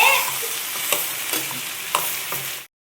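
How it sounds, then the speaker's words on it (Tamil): Banana stem sautéing in a pan, a steady close sizzle broken by several scraping stir strokes before cutting to silence. "இப்ப எங்க அம்மா வந்து வதக்கிட்டு இருக்காங்க."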